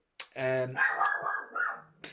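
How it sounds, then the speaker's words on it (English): A dog nearby gives a single short bark, and a voice speaks right after it. "dog's barking"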